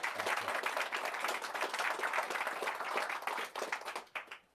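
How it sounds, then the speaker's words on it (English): An audience at a mentalism performance applauds with steady, dense clapping for a few seconds, then the clapping thins out and fades away. "A little round of applause."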